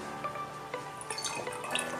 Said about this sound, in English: Now that our oils are in our bottles, it's time to pour in our groovy water.